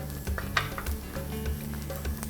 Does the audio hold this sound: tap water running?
no